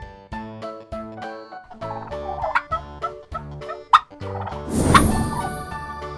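A turkey gobbles in a few rattling bursts over a bright, plinking musical backing, and the loudest burst comes near the end.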